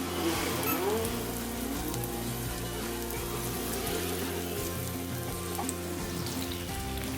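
Spoonfuls of idli batter for crispy bonda sizzle in hot oil, a steady dense frying crackle that stays close and even throughout, with no talking.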